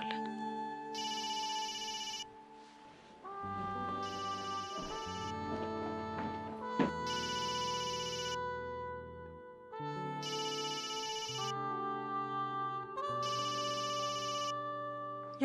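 A telephone rings in a drama scene, giving a steady, evenly spaced series of five electronic ring bursts. Sustained background music plays underneath the whole time.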